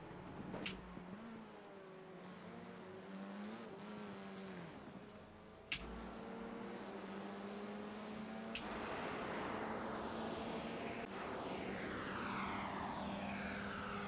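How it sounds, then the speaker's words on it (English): A Formula IR-04 race car engine in the iRacing video game at Laguna Seca drones and revs steadily with a high, airplane-like whine, shifting pitch as it accelerates, with a few sharp clicks along the way. "every time I see that orange and white car, that sounds like an airplane"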